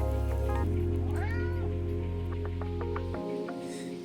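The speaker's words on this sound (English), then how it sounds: "saying hi to my cat, Lewis." A pet cat meows several times up close in a quiet indoor room, the short calls rising and falling over a low steady electrical hum.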